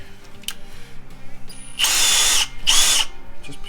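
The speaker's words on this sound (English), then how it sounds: "drill in there, and we're going to run it backwards." A power drill runs in reverse in a pickup truck bed during a B&W Turnoverball gooseneck hitch installation, two loud whirring bursts of roughly half a second each, separated by a short pause, close up with faint clicks around them.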